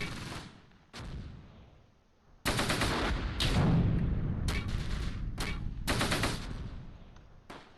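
Gunfire from a one-man crewed gun in the Close Combat wargame, set at Cassino near Caen in June 1944: a series of sharp blasts with ringing tails, some faint and some loud, rattling on with no voices.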